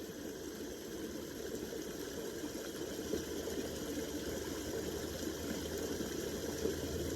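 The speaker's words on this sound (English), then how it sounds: "watch the water trickling over the edge of the little granite stones here" Water trickles steadily over the edge of small granite stones outdoors, a continuous, even rushing wash with no speech.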